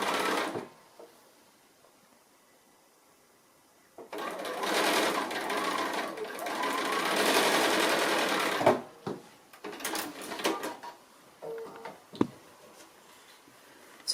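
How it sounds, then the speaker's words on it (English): A sewing machine stitching a fabric binding seam for a placemat, running in bursts of rapid whirring separated by pauses, with quiet clicks and handling noises between runs. "So I'll go to the machine and stitch that."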